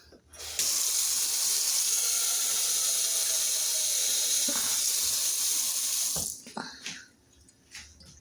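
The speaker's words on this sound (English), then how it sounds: "Get some water in my pan." Kitchen tap water pouring steadily into a pan for about six seconds, hissy and close, then shutting off followed by a few light clanks.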